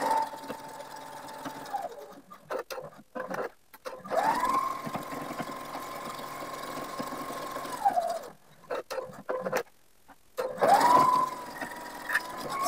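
A sewing machine runs in long, steady whirring stretches while stitching around a square fabric-covered ironing mat, pausing briefly between runs with soft clicks as it stops and turns at corners.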